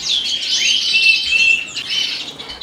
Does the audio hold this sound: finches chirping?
yes